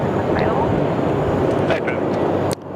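Steady broadband roar of a Dash 8 Q200 turboprop airliner at Sydney Airport, loud and continuous before cutting off sharply near the end, with people talking over it.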